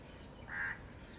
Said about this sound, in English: Honestly, it's kind of nostalgic to hear these crow sounds.